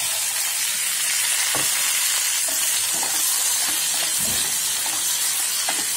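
Onions and tomatoes sizzle loudly and steadily in a hot pan, with occasional soft stirring scrapes, close up and without talk.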